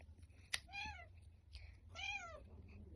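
A cat meows twice close by, two drawn-out, wavering calls about a second apart, with a short click just before the first.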